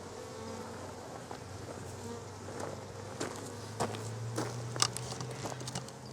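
Steady, dense buzzing of many honey bees at a queenless Flow hive fills the clip, close by and continuous, with occasional brief scrapes and knocks over the hum.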